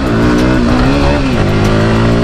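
A modified motorbike's engine revs hard and loud during a wheelie, a strained, rising and falling drone held throughout at close range.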